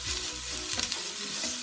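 Sliced onions sizzle and fry in a pan over high heat, a close steady crackling hiss with a brief stir of the pan partway through.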